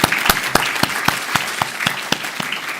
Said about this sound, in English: Applause for you as well.